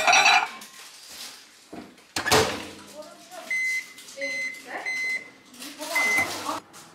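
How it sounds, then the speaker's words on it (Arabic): Brownies go into a home microwave oven: clattering dishes and a door clunk, then a series of short electronic beeps, close and moderately loud, with some faint talk. "هحطها في الميكرويف"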